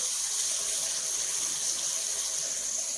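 Water is poured into a pan of bhindi masala, a steady splashing gush that stays loud and close for the whole stretch, with no one talking.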